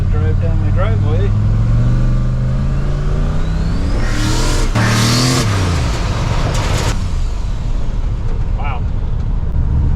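Engine of a 1965 GMC truck running loud and close, steady idle rising into a revving surge and settling back, with a short exclamation from a person over it.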